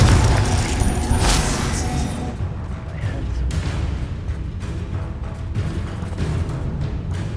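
A Confringo fire spell explodes in the Hogwarts Legacy video game with a loud, sharp boom, then rumbling blasts and crackling debris that go on at high volume.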